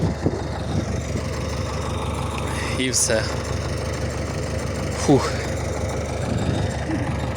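A farm tractor engine idles with a steady low, close rumble throughout, while someone speaks briefly and sighs over it.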